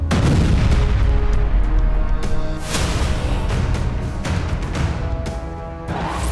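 Heavy bombing of a Russian weapons depot in Ukraine holding mortar shells and anti-tank mines, heard as a continuous loud roar of blasts with sharp repeated cracks and booms throughout, no voices.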